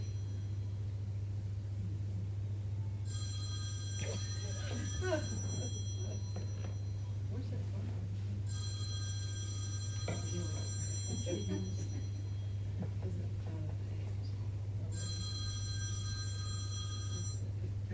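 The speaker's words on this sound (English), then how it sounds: "That's an alarm that I set earlier." A phone alarm rings in three repeated bursts of high, steady beeping tones, separated by pauses, over a constant low hum with faint talk underneath.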